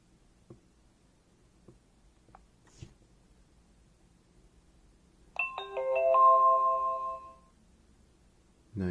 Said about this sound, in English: Nice ringtone.